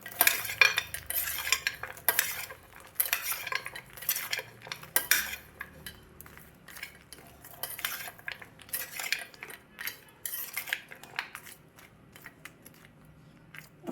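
Makhana chaat being tossed with tamarind pulp in a bowl, a busy run of spoon scrapes, clinks and wet mixing noises, close and fairly quiet, continuous without pause and with no talking.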